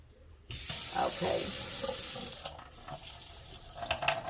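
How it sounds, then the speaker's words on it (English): Tap water runs steadily into a sink as potatoes are washed, a close, continuous splashing hiss that starts abruptly and carries on with small clatters of handling. "So I'm getting ready to wash the potatoes right now."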